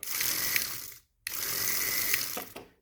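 A small motor whirs inside a cardboard toy car, two loud, even buzzing runs separated by a brief silence, close by with no talk.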